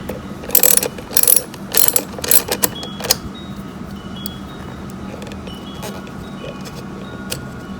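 A ratchet loosens straight bolts on a Honda EU7000is generator, giving several close bursts of rapid clicking in the first few seconds, then a steady low hum with no more ratcheting.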